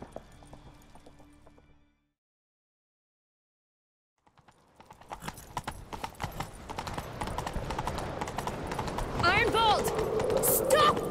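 Rapid clip-clop of galloping hooves in The Witcher 3 builds from near silence and grows louder, with voices talking over the running horse.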